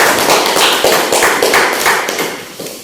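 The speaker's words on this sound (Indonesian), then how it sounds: "Beri tepuk tangan untuk kelompok 2." Applause for a student group during a classroom presentation session at a teacher certification performance exam in Bandung, dense overlapping hand claps filling the room at steady loudness, no speech.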